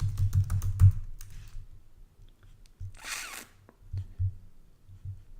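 Someone types on a computer keyboard in short bursts of quick, soft key clicks, close by and quiet, with a brief rustle in the middle and a few scattered taps afterward.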